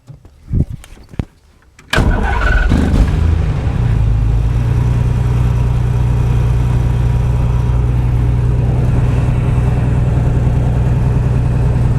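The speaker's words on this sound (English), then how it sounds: "So let's go ahead and get the engine cranked." A small aircraft's piston engine is started: a few sharp clicks and knocks, then the engine catches with a sudden loud burst and settles into a steady, droning idle that continues unbroken.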